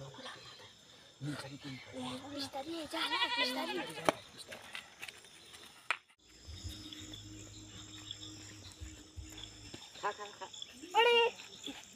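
A goat bought for an evening meal bleats in several wavering, quavering calls, close and fairly loud, with people talking over parts of it and insects or crickets buzzing faintly in the background.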